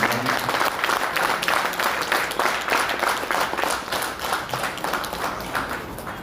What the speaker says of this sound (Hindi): एक बार जोरदार ताली हमारी महिलाओं के लिए।